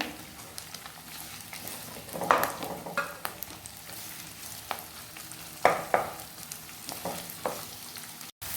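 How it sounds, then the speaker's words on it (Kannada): Sliced onions frying in a pan for chicken chettinad, a steady close sizzle with a few sharper scrapes of stirring scattered through, no voices. "ಈರುಳ್ಳಿ ಒಳ್ಳೆ ಫ್ರೈ ಆಗಬೇಕು, ಅಲ್ಲಿವರೆಗೆ ಫ್ರೈ ಮಾಡ್ಕೊಳ್ಳಿ"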